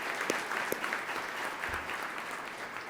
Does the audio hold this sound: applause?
yes